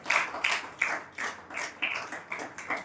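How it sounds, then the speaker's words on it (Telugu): A congregation claps in steady rhythm during a church sermon, roughly three sharp claps per second, fairly close and continuous with no talking over it. "చప్పట్లు కొట్టండి గట్టిగా"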